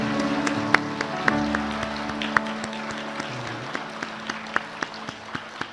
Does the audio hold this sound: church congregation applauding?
yes